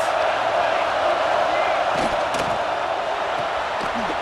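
Dense, steady roar of a football stadium crowd at a Michigan versus Northwestern game, loud and continuous with no break, swelling into raised yelling against the offense.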